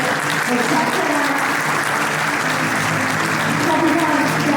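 An audience gives Captain Masoud Jalali sustained, loud, dense applause at an aviation conference, the clapping continuous throughout with voices mixed in.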